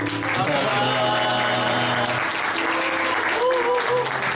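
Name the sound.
congregation applause at church youth service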